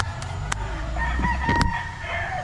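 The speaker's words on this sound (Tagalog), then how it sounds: "Bulabog yung mga manok." A rooster crows at a distance over a low background rumble, with other fowl calling faintly and a few brief sharp noises.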